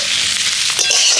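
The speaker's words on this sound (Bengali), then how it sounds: "তো এগুলো দিয়ে ভালো করে আমি কষিয়ে নেব।" Ground coriander and garam masala are sautéed in a pan for samosa filling, a brief loud sizzle with stirring close up.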